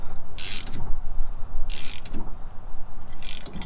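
A hand ratchet cranks in three separate bursts of quick, loud clicking to press an old rear bushing out of a 20-year-old Dodge Dakota, with a low workshop rumble between the bursts.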